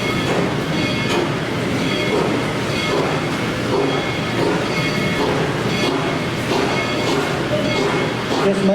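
A heritage railroad train rolls past close by, a loud continuous rumble of wheels and cars with rhythmic clicking, and a voice can be heard faintly beneath it.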